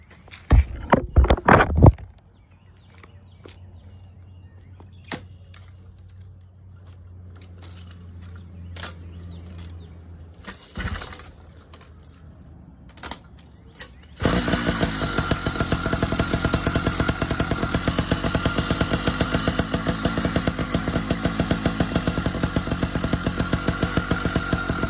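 A small modified two-stroke bike engine with ported block, ported exhaust and nitrous oxide sputters and pops a few times, then after a pause bursts into a loud, high-pitched buzzing rev that holds steady to the end.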